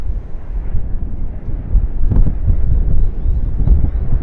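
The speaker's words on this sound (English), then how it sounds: "And the wind certainly making a presence." Gusty wind at Sydney Airport buffets the microphone in loud low rumbling bursts, swelling and easing unevenly with stronger gusts near the middle and end.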